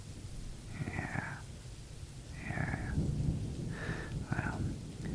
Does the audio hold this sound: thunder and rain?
yes